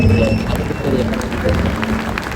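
Audience applause breaks out at an event as names are called, a dense steady wash of clapping with crowd murmur throughout, moderately loud and even from start to finish.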